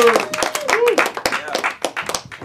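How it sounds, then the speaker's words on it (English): A comedy club audience claps for comedian Dave Foster at a live stand-up show, brisk close clapping with cheering voices over it. "Please give a round of applause for Dave Foster."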